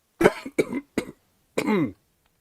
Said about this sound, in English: I'm finally over this cold, but I still got a bit of a cough